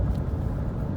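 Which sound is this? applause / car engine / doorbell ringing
car engine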